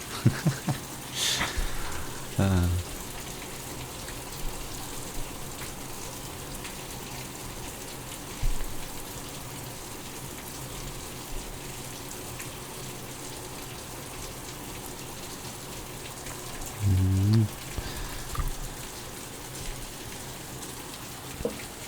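Steady rain falling outside, a soft continuous hiss of drops on surfaces at moderate distance, with a few brief nearby clunks and thumps breaking through the even patter.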